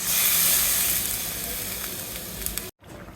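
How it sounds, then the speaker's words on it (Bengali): A little water goes into a pan of frying bata fish and eggplant, setting off a loud, bright sizzle that gradually settles into a softer hiss before a brief cut, with no voices. "এখন অল্প একটু পানি দিয়ে দেব"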